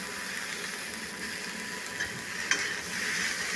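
Vegetables with ginger and green chili fry in oil in a pan, a steady soft sizzle with faint stirring scrapes and one brief clink near the end, close and continuous with no talk.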